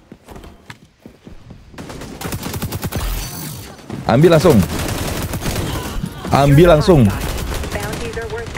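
Gunfire in the shooter game xDefiant, sharp shot bursts and rapid volleys ringing out loud over game sounds, with someone talking over the action.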